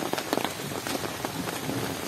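Heavy rain pours down at a wedding venue in Batulao, a dense, constant hiss with scattered louder drops splattering on nearby surfaces.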